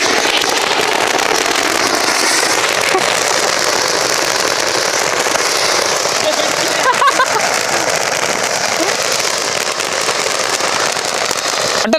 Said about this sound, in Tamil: இப்போ என்ன பண்ண போறோம்னா சன்ஃப்ளவரை பிளாஸ்ட் பண்ண போறோம்.